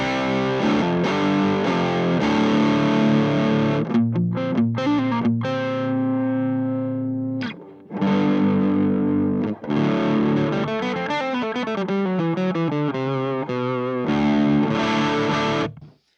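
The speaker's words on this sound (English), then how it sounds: "it's almost like it's a distortion and an overdrive built in" Heavily distorted electric guitar through a distortion and overdrive pedal playing chords and riffs, loud and saturated, with a brief gap of silence midway before the crunchy playing resumes.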